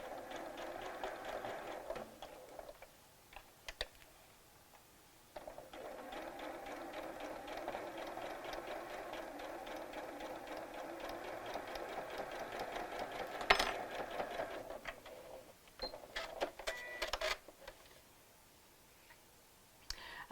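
A sewing machine stitches a small Barbie doll dress, running in steady bursts with brief pauses and a few sharp clicks between runs, close and moderately loud with no talking.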